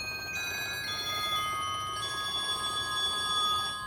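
Bright metallic bell tones from the bells stop of the Ohio Theatre's Mighty Morton theatre organ ring and sustain together, a shimmering cluster of pitched strikes that overlap and keep sounding, fairly loud and close.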